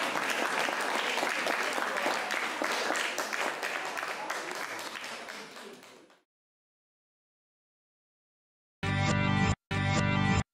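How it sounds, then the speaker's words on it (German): Loud, dense applause from a crowd fades out, followed by silence and then two short bursts of clapping. "Und zum Schluss gab es natürlich einen kräftigen Applaus."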